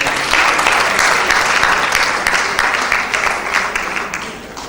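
An audience at a midwifery conference in Nigeria gives a round of applause, a loud, dense, steady wash of clapping that tapers slightly toward the end.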